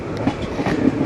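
A passenger train running on rails as it nears Dhoraji station, with a steady rumbling roll and faint rhythmic clatter of the wagons, heard close and continuous with no talk.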